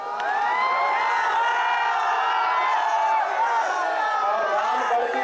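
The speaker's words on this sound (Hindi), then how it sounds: "कैमूर के रामगढ़ मैदान में श्री राम के नाम का उद्घोष हो रहा था" A large crowd at the Ramgarh rally ground in Kaimur, Bihar, chanting Lord Ram's name in a loud, sustained roar of many voices with rising and falling shouts, continuous throughout.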